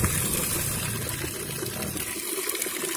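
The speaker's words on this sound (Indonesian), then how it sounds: "sekarang akan saya lanjut bagaimana kalau saya isi air nah ini keran nah ini keran langsung saja" Water gushes steadily from a tap to fill a pot, a continuous loud splashing rush that lasts the whole three seconds with no talk.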